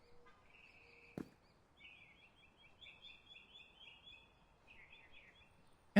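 Birds chirp on cheerful streets in a video game, a faint, high twittering that repeats in short trills over quiet ambience, with a sharp click or thud near the start.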